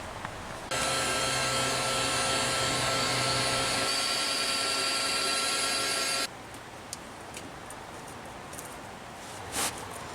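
A heat gun shrinks heat shrink tubing over a wire connection on a mini truck's electrical work, blowing as a steady, close whooshing hiss for about five and a half seconds before cutting off into quiet room tone with a faint click.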